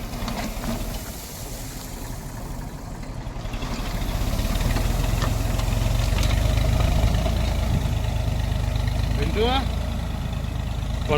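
A tractor loaded with fertilizer and wheat seed runs in a field during wheat sowing, a continuous low engine rumble that swells louder partway through, with a brief higher whine near the end.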